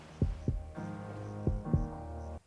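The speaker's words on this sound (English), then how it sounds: "Do you hear the heartbeat?" Heartbeat sound effect from a reality TV dating show, two pairs of low thumping beats over a sustained droning hum, with no voices.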